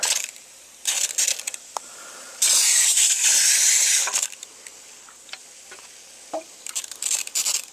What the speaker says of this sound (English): I'm going to spray this guy down some more